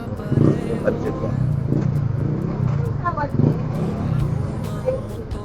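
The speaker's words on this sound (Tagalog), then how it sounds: "Traffic." Steady road traffic with cars passing close by, a continuous loud engine rumble and hum with brief swells, under people talking near a church in Antipolo.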